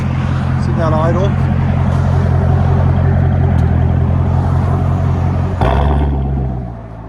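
A C7 Chevy Corvette with straight pipe exhaust idles with a loud, deep, lumpy rumble up close; someone speaks briefly over it, and the idle drops after a sharp blip near the end.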